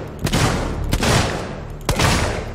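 Gunfire in the survival horror game Alien Isolation: three heavy, booming shots about a second apart, each a loud close blast with a long, roaring tail that fills the gaps.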